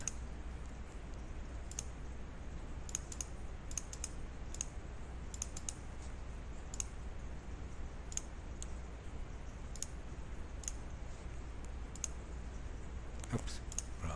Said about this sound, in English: I'm going to change it to just Documents AlbumEasy by clicking the Browse button.